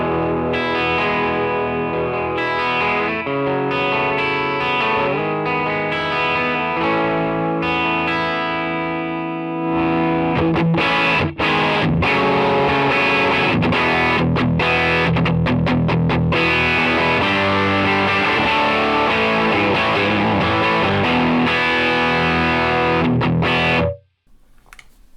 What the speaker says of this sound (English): this next capture is maximum gain on an FNDR Deluxe